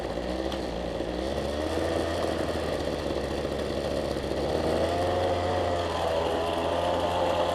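A Toro weedeater's small two-stroke engine runs steadily after a HIPA carburetor kit is fitted, a continuous close buzzing drone with slight wavering in pitch; no talking.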